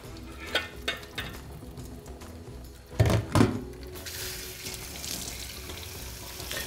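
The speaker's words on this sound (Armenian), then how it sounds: "և սառը ջրի տակ լավ լվանում։" Sorrel leaves are washed under cold running tap water, with a few soft thunks and splashes early on, two louder bursts in the middle, then a steadier faucet stream to the end.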